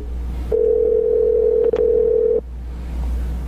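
A steady electronic phone ringing tone on an outgoing call sounds for about two seconds, then cuts off, leaving quiet background hiss.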